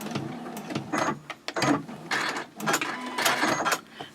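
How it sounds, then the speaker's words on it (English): A sewing machine backstitches along a purse interior in short mechanical bursts, starting and stopping several times with a whirring, clattering run. It is close and alone, with no talk. "I want to backstitch there."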